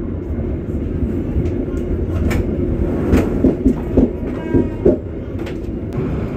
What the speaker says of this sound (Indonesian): ada kereta api Babaranjang tuh, ditarik JJ206 1515.